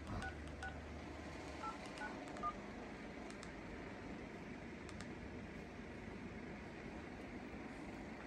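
A telephone number is keyed in as a quick series of short DTMF beeps over a low background hum, followed by more scattered tones, faint and with no talking.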